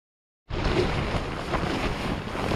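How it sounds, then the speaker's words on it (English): Strong storm wind gusting at 50 to 60 kilometers an hour at a solo campsite, a sudden loud, steady roar of wind buffeting the microphone that continues without pause, with no talk. "the wind is already gusting probably 50 or 60 kilometers an hour by now."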